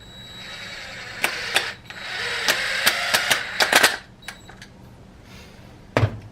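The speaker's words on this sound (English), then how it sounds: "you're going to want to add 1 screw all the way through" Power drill driving a screw through wood on a homemade roller cotton gin, heard as a string of sharp, close bursts of whirring and clicking with brief pauses between them.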